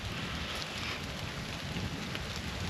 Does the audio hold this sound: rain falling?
yes